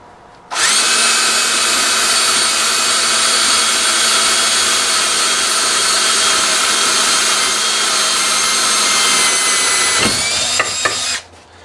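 A power drill bores steadily through metal for a lawn care trailer lock, its bit greased with Vaseline; a loud, continuous high whine runs nearly eleven seconds before winding down with a few short clunks.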